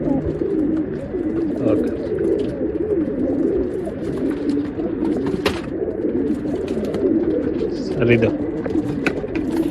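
Pigeons coo steadily in a loft of racing pigeons being shown for sale, a continuous low warbling throughout while someone talks briefly over it.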